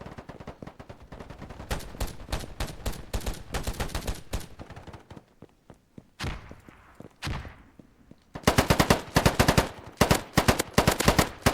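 Rapid bursts of automatic gunfire from a free low-poly Steam shooter game, loud and close, with sustained volleys, a brief lull with scattered single shots, then a dense final barrage.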